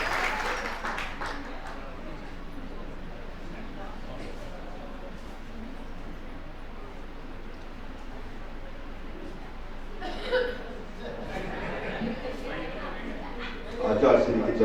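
An audience at a Jain devotional gathering gives hearty applause: a dense patter of clapping mixed with crowd voices and some laughter, swelling in short bursts near the end.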